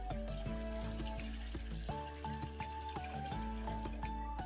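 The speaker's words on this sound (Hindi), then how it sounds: "इसमें हम 8 कप दूध डाल देंगे" Eight cups of milk, about two litres, poured into a cooking pot on a gas stove for kheer: a soft, steady liquid stream, faint and continuous, with small splashing tones running throughout.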